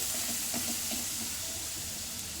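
Onions fry in a pan with salt added for a stuffed bitter gourd dish, giving a steady close hiss of sizzling with faint clinks and stirring taps scattered throughout, no voices.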